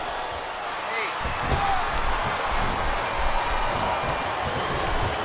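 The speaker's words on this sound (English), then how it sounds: "This capacity crowd is making their opinions known tonight." Dense, steady roar of a capacity arena crowd in a WWE SmackDown wrestling video game, a continuous broad wash of cheering and noise with occasional thuds, sustained at even loudness throughout.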